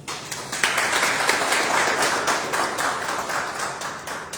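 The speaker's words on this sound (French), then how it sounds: "Je vais vous demander encore une fois d'applaudir nos experts." A crowd applauds steadily, a dense wash of many hands clapping at fairly even loudness throughout, with no voices standing out.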